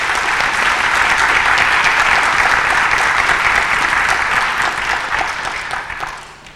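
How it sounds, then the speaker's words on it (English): Loud, dense audience applause at an adult education graduation ceremony, sustained for several seconds before tapering off. "let's give them a round of applause again."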